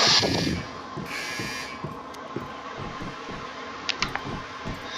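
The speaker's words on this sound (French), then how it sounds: "Oh, j'ai mis cette alarme." An alarm set in a Fortnite video game base sounds as a short tone at the start, then regular beeping pulses over steady game background noise.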